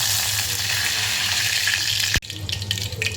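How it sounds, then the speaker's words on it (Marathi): Onion and curry leaves dropped into properly heated oil fry with a loud, steady sizzle, broken by a sharp clunk partway through, after which the crackle continues more unevenly. "तेल व्यवस्थित तापलं आहे त्याच्यामध्ये आपण कांदा आणि कढीपत्ता टाकून घेणार आहे"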